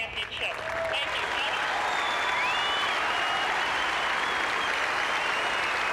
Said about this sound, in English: the crowd here thoroughly appreciating all that he said